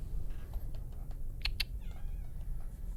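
A house cat gives a few short, faint meows close by, with a little soft tapping in the background.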